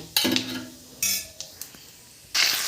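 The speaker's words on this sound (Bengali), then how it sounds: "ফোড়নটা দিয়ে হালকা নেড়ে কুমড়ো আলুটা ওপর দিয়ে দেব।" A utensil stirs spiced pumpkin and potato in a hot pan, giving a few short scraping, clinking bursts with brief pauses between them. Close by, with no talk.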